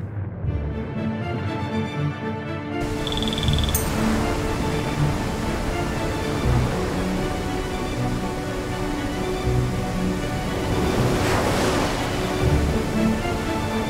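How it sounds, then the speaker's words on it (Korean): Water trapped in the Baekdu crater lake bursting out in a flood, a broad steady rushing roar after a brief quieter opening, surging slightly toward the end. "천지에 갇혀있던 물이 터져나오면서 순식간에 함경도를 휩쓸어 버렸다."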